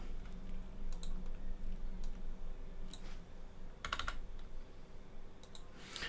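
Keyboard shortcuts tapped out on a computer keyboard: a few sparse, sharp key clicks in separate clusters over a steady background hum, moderately close.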